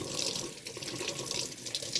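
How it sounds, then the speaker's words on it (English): Tap water runs steadily into a sink as soap is rinsed from an acrylic paint brush, a continuous close splashing flow. "And I make sure I rinse all the soap out of my brush."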